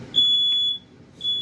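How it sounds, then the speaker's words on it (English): RV smoke detector alarm sounding loud, sustained high-pitched electronic tones, two blasts separated by a short pause, over faint background room noise. "you know how sensitive these RV smoke detectors are"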